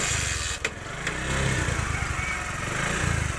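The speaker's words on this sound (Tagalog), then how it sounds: "Ito na, umandar na yung ating motor." A Bajaj CT100 motorcycle engine running close by right after starting, a steady low putter with a brief click near the start.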